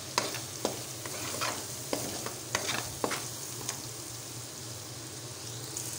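Chicken pieces with ground coriander and spices being stirred and fried in a pan, a steady low sizzle with intermittent scraping strokes of a spatula across the pan surface, close and fairly quiet, no talking.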